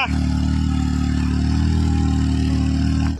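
A steady, loud car engine idling close by, a constant low rumble that holds unchanged for a few seconds before cutting off at the end, with no talking.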